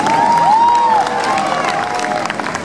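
An audience at a Hasbro Transformers 30th anniversary panel at Universal Studios applauds and cheers, a dense burst of clapping with whistles and shouts, near and loud, gradually easing off.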